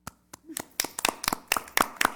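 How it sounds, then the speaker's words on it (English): At a city council meeting, a small audience claps for contract negotiators in a sparse burst of distinct, sharp claps close by, starting scattered and quickly settling into a quicker, steadier pattern. "I think that you all deserve a moment of applause for doing that and helping us out."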